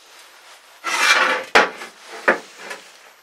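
A steel lid cut from pipe on a homemade furnace for melting non-ferrous metals is moved, giving a long scraping metal rub followed by a sharp clank and a few lighter scrapes and knocks, close and loud with no talking.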